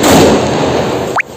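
Firecrackers burst at a New Year's Eve night celebration, a loud crackling blast that fades, followed by a short rising whistle near the end.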